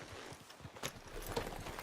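Horse hooves clip-clop at a steady walking rhythm in the Red Dead Redemption 2 video game, moderately close and clear over a soft ambient game background, with no talking.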